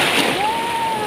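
A sea wave breaks and washes over swimmers at a beach, making a brief, loud, close splashing rush of water.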